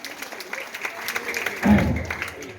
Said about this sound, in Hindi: जोरदार तालियों से इनका स्वागत करेंगे